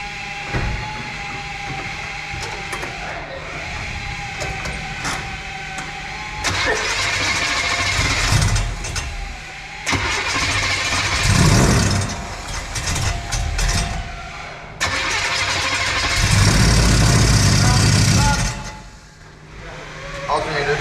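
A 1972 Chevy C10 Suburban engine cranks and fires up, then revs in loud surges and settles back to a rough idle several times, with voices talking over the running engine.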